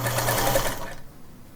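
A sewing machine runs at speed, stitching pressed quilt fabric strips together, with a close, steady whirring hum that stops abruptly about a second in.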